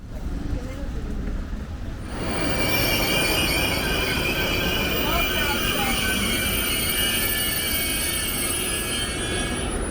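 A train rumbles through a station in northern Italy with shrill, sustained wheel squeal rising after a couple of seconds and continuing loud; voices are faintly audible beneath.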